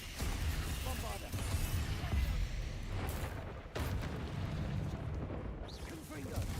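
A Bombarda blasting spell explodes in Hogwarts Legacy amid a dense, continuous roar of battle, with heavy booming bursts near the start and a sharp impact around the middle, while a voice talks over the din.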